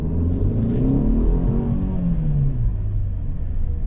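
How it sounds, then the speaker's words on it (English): A 2020 Mercedes GLE350 accelerates, its engine rising in a steady, loud rumble and whir from inside the cabin, the pitch sweeping upward and then settling as the revs climb. "And let's do a little acceleration right here."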